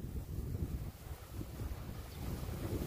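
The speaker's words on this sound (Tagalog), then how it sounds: "Lakas ng hangin." Strong wind buffets the microphone in a steady, heavy low roar that gusts throughout, with a faint wash like water in the background.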